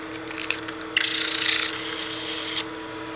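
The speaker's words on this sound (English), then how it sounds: "now we'll do the same thing with the sandpaper" Sandpaper rubs inside a wooden cigar case tube on a lathe, with a few light scratches giving way to a sustained harsh sanding hiss that then stops, over a steady motor hum.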